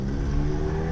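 A Yamaha XJ6 motorcycle engine hums and revs in city traffic, a loud, steady, close mechanical drone with a slight rise in pitch over a brief moment.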